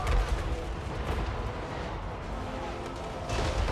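Artillery fires in the battle game Total War: Warhammer III, a dense low rumble of booming shots and battlefield din that surges near the start and end.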